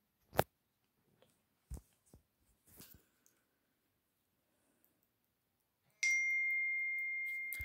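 A phone notification chimes near the end, a single clear tone that rings on and slowly fades, after a few scattered taps and clicks over an otherwise quiet background.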